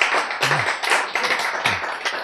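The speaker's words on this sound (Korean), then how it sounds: "박수!" Audience applause breaks out at a Korean health lecture, a dense, steady wash of clapping that fills the room for a couple of seconds, with a brief voice murmuring faintly underneath.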